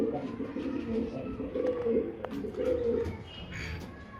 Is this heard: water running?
no